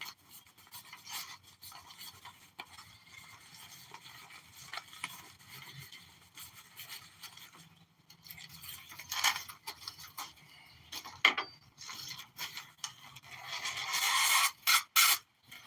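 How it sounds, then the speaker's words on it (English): Paper sheet being wrapped loosely around a tube-forming tool while building a firework tube, giving soft intermittent rubbing and rasping scrapes, close and fairly quiet, louder crinkly bursts near the end. "Just to get it started, I wrap it loosely, and I'll show you how I tighten it up"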